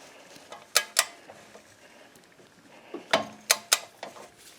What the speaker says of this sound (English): I got the torque wrench set to 42. We'll get this on there.